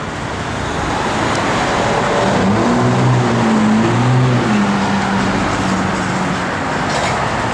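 A 1970 Plymouth Cuda with a matching-numbers 340 V8 and mild cam runs steadily, a loud, continuous rumbling drone heard close up.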